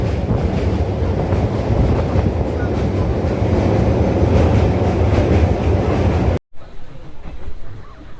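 Rolling from inside the 13187 Maa Tara Express between Kolkata and Santiniketan, a loud steady rumble of wheels on track with wind noise, cut briefly and then continuing more quietly.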